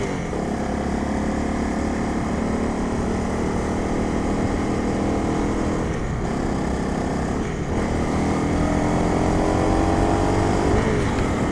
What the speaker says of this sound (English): This bike, the Honda 250 Rally, has a very specific, quite narrow power band, and you really have to wring its neck on some of the hills